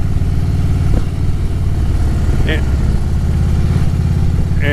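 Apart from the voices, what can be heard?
motorcycle engine recorded by action camera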